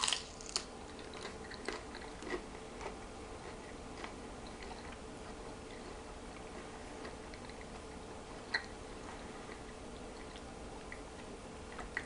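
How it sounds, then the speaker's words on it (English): Crunching bites on a dehydrated apple chip made in a Ninja Foodi XL Pro air fry oven, faint scattered crisp cracks and ticks over a quiet background, sparse and irregular. "I think you can tell that's a chip. So definitely crunchy."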